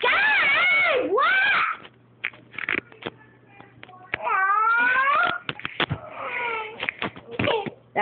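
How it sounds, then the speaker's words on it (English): A cat cries and meows in several drawn-out, wavering yowls, loud and close, broken by short gaps and small bumps and rustles. "Now we're here with the crying kitty."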